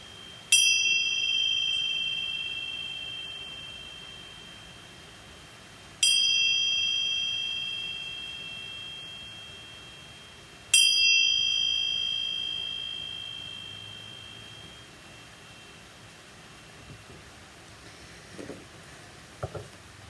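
A bright chime rings three times, several seconds apart, each strike ringing out long and fading slowly in a quiet room.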